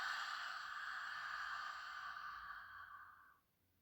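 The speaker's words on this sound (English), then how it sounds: "as if you are trying to fog up a mirror" Ujjayi ocean breath exhaled through an open mouth with a slightly constricted throat, as if fogging a mirror. A single long, soft, hissing breath with a hollow tone holds steady and then stops, heard close up in a quiet room.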